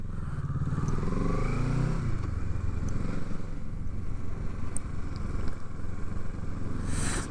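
Motorcycle engine droning steadily and close throughout, with a brief rising rev early on, ridden outdoors on a cold day with snow about during the first ride of the season.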